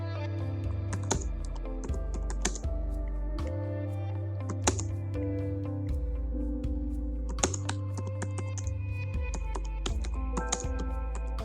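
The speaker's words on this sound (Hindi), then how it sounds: "इस बॉक्स के अंदर हमें कुछ भी अगर टाइप करना है" Keys clack on a computer keyboard as text is typed, in quick irregular bursts of close, fairly quiet taps with short pauses between runs.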